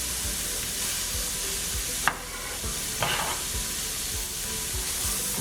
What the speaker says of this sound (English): Now we're going to throw in our peppers and our onions, and we're gonna let these saute together for a little bit